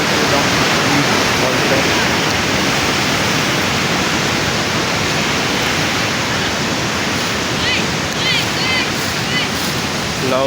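A waterfall in Nepal roaring as loud, continuous rushing water close to the listener, with a voice partly buried under the steady wash.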